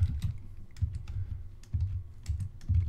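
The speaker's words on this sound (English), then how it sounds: "I'm just typing stuff right off the box." Rapid, irregular key clicks from a computer keyboard while product details are entered from a box, continuous and close, with bursts of faster tapping and no talking.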